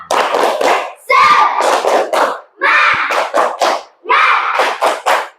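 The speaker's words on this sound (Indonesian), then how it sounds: "Tepuk semangat." Students chanting the tepuk semangat clapping routine in a classroom, with rhythmic bursts of children's voices and hand claps in four loud, evenly spaced phrases separated by short pauses.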